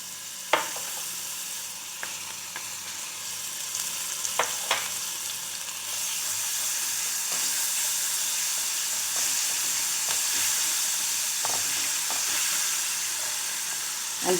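Green chilies with ginger garlic paste sizzle steadily in a pan over a low flame, a continuous frying hiss broken by a few sharp stirring clicks.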